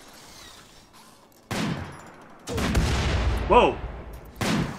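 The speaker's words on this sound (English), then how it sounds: "Are they firing at me?" Gunfire in the video game RimWorld, with sniper rifle shots during a firefight: several sharp bursts of shooting cut in and out, with a man's startled exclamation over the shots.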